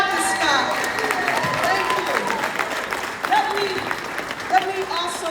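An audience at a Philadelphia Tennis Club centennial celebration claps for a surgeon being honoured, with steady applause and a few voices rising and calling out over it.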